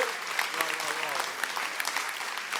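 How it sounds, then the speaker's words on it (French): Festival audience applauding for Raphaël at the SHAKA Festival 2025 grand opening, a steady dense clapping with a few cheers and a voice briefly speaking over it. "On va applaudir C'est pour Raphaël."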